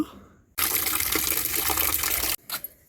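Liquid fertilizer water poured onto a potted jasmine plant, a sudden loud gushing splash that runs steadily for nearly two seconds, stops abruptly, then trickles briefly in a couple of short spurts.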